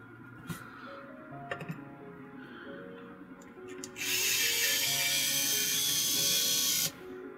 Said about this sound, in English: Grab my handy dandy electric screwdriver